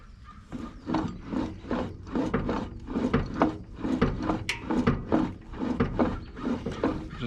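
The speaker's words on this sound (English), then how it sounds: "Just wobbling it back and forth and getting the last little bit of tightening out of the adjustment screw." Repeated rhythmic metallic ratcheting and scraping as the steering adjustment screw on a Kubota B6000 compact tractor is tightened, rocked back and forth in short strokes, close up and steady.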